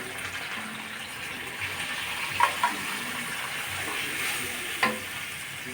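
Ground green chilli and mustard paste fries in a pan with a steady sizzle, broken by a few soft stirring scrapes near the middle and end, close and moderately loud with no talking.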